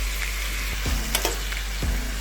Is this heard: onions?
yes